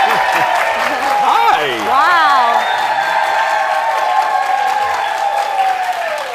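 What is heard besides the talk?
studio audience applauding arriving talk show guests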